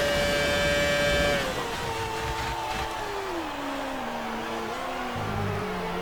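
Engine of a 2006 Renault Formula One car in the F1 2019 racing game at Monza, a loud, steady high-pitched whine that drops in pitch through an upshift, then holds a continuous drone at full speed, with no talking.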